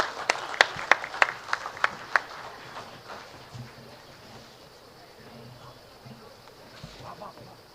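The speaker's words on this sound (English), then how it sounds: "So let's give her a warm applause" Audience at a literary festival in Shillong welcomes an author on stage with a few sharp, close claps that trail off quickly into a quiet hall with faint murmuring.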